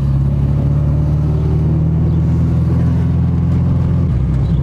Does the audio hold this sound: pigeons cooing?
no